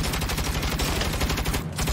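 Rapid turret gunfire in the Saints Row video game, a dense continuous stream of loud close bursts with no pauses over the short stretch.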